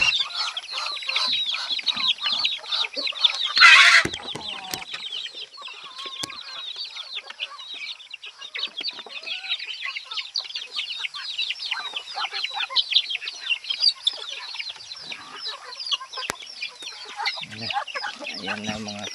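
A flock of muscovy ducks in a backyard chatters constantly at close range, giving dense, overlapping clucking calls with one louder squawk early on.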